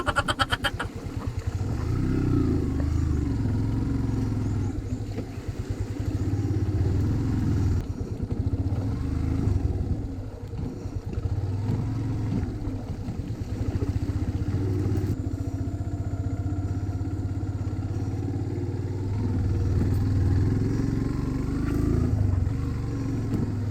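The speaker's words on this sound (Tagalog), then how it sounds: "Ang motor nyo rito enduro." Enduro motorcycle engines rumble and rev continuously for the whole stretch, with rattling clatter and uneven throttle surges, loud and close.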